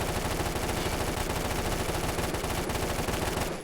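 An automatic gun in Phantom Forces fires a sustained rapid burst of shots, loud and close, cutting off just before the end.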